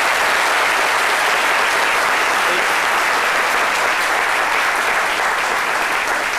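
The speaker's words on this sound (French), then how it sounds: "Ça mérite vraiment un tonnerre d'applaudissements." Audience at a French-language talk show gives thunderous applause, dense loud clapping sustained evenly throughout.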